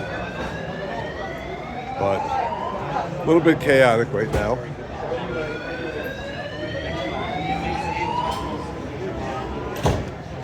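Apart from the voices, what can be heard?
fire alarm sounding at a festival venue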